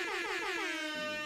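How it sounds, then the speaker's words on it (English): An air horn sound effect blares in a loud, wavering stacked tone with descending pitch sweeps, sustained for just over a second with nothing else beneath it. "Double the air horn"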